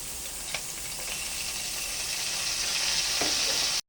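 Garlic sautés in a pan for burong kanin with tilapia, giving a steady, close sizzling hiss that builds slightly louder and lasts throughout, with a faint stir or clink near the start and no talking.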